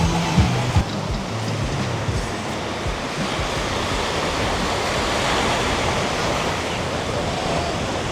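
Steady surf washing onto a calm town beach in Tangalle, Sri Lanka: a continuous, fairly loud wash of small waves with wind noise, no clear individual breakers and no voices.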